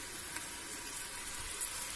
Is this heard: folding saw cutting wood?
no